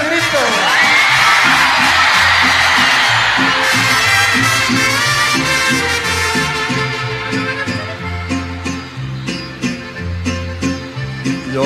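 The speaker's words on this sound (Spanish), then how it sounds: "Cuando yo levanto el sombrero, echen un grito todos." A large crowd lets out a loud shout and whoops on cue during a live Mexican ranchera performance, the roar swelling at once and then giving way to music with rhythmic accompaniment.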